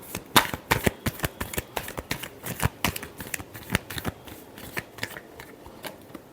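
Tarot cards being shuffled by hand, a series of crisp riffling snaps and slaps in uneven bursts, close and clear with no talking.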